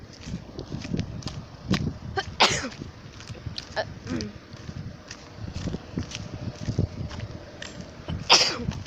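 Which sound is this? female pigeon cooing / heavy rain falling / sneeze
sneeze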